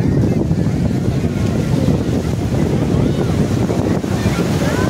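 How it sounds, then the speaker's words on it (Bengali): Ocean surf at Juhu Beach in Mumbai rolls in as a steady broadband wash, waves breaking one after another with wind noise buffeting the microphone throughout. "গতিতে একের পর এক ঢেউ কিন্তু আছড়ে পড়ছে ধীরে ধীরে।"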